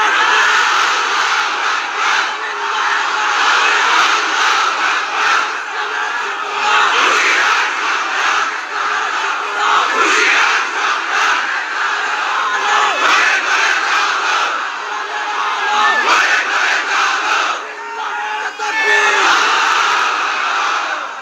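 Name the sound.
audience shouting in response to preacher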